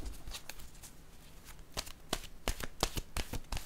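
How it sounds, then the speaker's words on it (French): Oracle cards being shuffled and drawn by hand, a quick run of close, soft riffling flicks and taps, faint at first and growing busier and crisper toward the end. "Je vais piger une autre carte de mon oracle"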